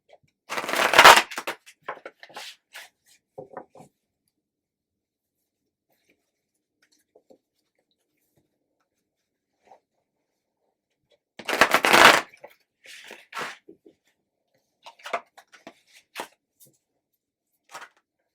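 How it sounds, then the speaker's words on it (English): Two bursts of tarot cards being shuffled close up, crisp riffling flutters separated by quiet, with light taps and handling sounds afterward. "So I'm going to shuffle up the cards for this triangle now."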